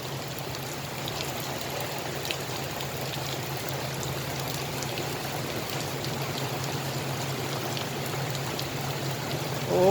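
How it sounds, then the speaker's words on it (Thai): Steady rain falls continuously, a dense even hiss of drops with no gaps, close and moderately loud throughout. "ฝนมันไล่มาจากฝั่งนู้นด้วยครับ"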